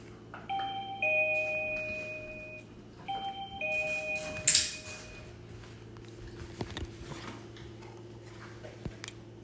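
A household doorbell chimes twice in clear two-tone dings, each ringing out over a low steady hum, followed by faint clicks and small handling noises in a quiet room.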